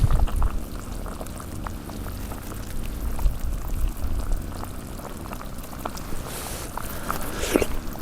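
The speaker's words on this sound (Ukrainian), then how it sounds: "але супчик мій кипить" A pot of lentil and potato soup bubbles and simmers steadily over reduced heat with soft popping and gurgling, plus a few light clinks close by; no one speaks.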